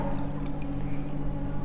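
Oil is poured into a container of clean river water in a classroom pollution demonstration, making a brief, steady close-up pouring and trickling sound.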